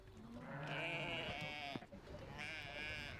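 Sheep bleat close by while being milked by hand in a transhumant flock. There are two drawn-out, wavering bleats separated by a short pause and a brief knock.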